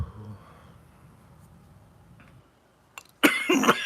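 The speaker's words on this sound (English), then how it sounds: "And I be trying to fight that little cough too," A few short, sharp coughs burst out near the end after a quiet stretch, close and fairly loud, from a person with a tickle in the throat after smoking, with faint background murmur earlier.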